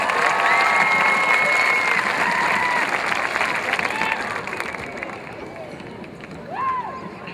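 Graduation crowd at a class of 2013 commencement applauding and cheering loudly, a dense steady wash of clapping with shouts that tapers slightly toward the end.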